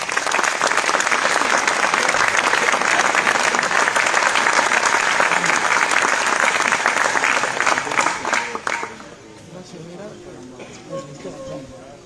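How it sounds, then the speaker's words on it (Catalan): Loud, sustained applause from an audience after the L'Amistat choir sings a Catalan folk song at an institutional ceremony for Catalonia's National Day, steady for about nine seconds before fading to scattered claps and room murmur. "Un fort aplaudiment."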